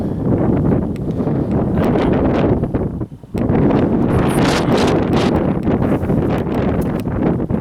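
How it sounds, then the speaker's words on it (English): Loud, steady wind buffeting the microphone, a constant roaring rumble with a brief lull around three seconds before gusting back. "Now it's cloudy and windy."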